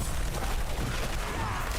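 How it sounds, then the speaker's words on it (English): Diablo 4 blizzard spell setting off a dense barrage of ice explosions: continuous loud crackling and booming bursts, layered thickly over the whole stretch with no pauses. "The future of gaming is a huge blizzard and a bunch of ice explosions."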